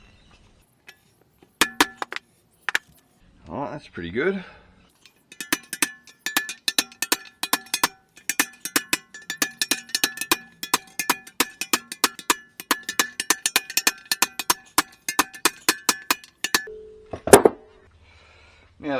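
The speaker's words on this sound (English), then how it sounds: "just tapping them home into position" Wheel bearings on a Nissan 300ZX Z32 are tapped into position, sharp metallic clinks ringing in a quick irregular series, close and loud, with a brief spoken remark near the end.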